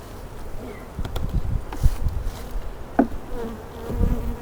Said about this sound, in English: This one here used to be my most aggressive hive, but it's done calmed down.